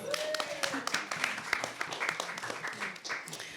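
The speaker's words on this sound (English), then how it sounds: "Give her a round of applause." A small audience at a panel discussion claps for a panelist: sparse, close individual claps, fairly quiet, with a faint voice murmuring underneath.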